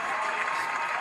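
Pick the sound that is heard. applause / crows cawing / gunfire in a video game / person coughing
applause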